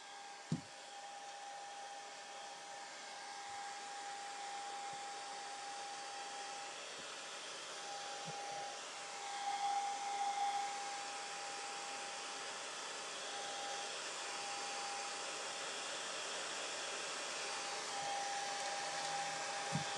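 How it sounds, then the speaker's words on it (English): A heat gun blows over a garden planter to dry its newly applied textured finish, making a steady, even whirring hiss that runs unbroken the whole time, with a faint tone and a few soft knocks. "Then I'm going to take the heat gun to it."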